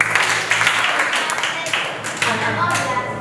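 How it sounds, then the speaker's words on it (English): Audience applause at an event breaks out close and loud, a dense, steady patter of many hands clapping that continues throughout. "everybody clap for him."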